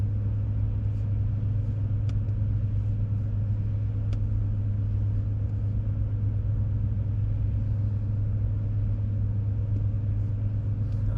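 A V12 Audi Q7 pulls steadily under boost around 3,000 RPM, heard from inside as a constant low engine drone and road rumble, with no talk.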